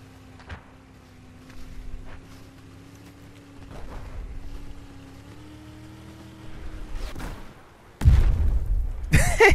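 A jet ski engine drones steadily at a low pitch in the video game Battlefield 4 on the Hainan Resort map, with thuds and splashy bursts cutting in, then a loud rough roar near the end.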